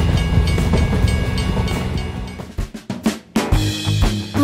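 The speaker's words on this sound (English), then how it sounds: "a train is about to pass through the tunnel" A train passing through a tunnel rumbles with a loud, dense roar that cuts out briefly and returns, clattering wheels audible, no voices.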